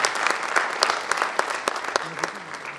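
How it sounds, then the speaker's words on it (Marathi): An audience claps for an honoree at the Kalayatri award ceremony, giving steady, dense applause from a close crowd, lasting throughout with faint voices mixed in. "त्यांच्यासाठी जोरदार टाळ्या झाल्याच पाहिजे"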